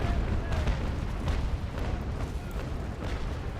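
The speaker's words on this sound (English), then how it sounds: "Fire off a broadside." Frigate cannons roar in a broadside during a Naval Action Legends sea battle, a dense run of booming shots rumbling continuously and loud for several seconds with no talk.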